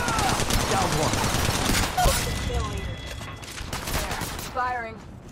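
Rapid automatic gunfire from an Apex Legends Mobile battle, bursts of shots rattling close and loud for several seconds with game effects mixed in.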